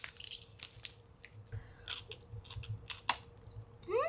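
Someone bites and chews a crispy Shinkabuki fried rice cracker from a Japanese snack box, producing a series of close, quiet crunches with short pauses between bites.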